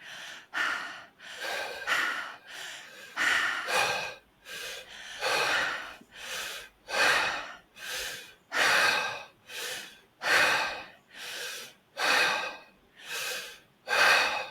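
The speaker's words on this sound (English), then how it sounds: "We're going to slowly breathe in. As you feel ready, breathing through the mouth." Slow, deep breaths drawn in through the mouth and let out again in a regular rhythm, about a dozen close, clear cycles with no speech.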